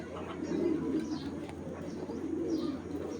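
Low, throaty cooing from a pair of blue junky pigeons rises and falls in two soft rolling phrases, close by, with no voices over it.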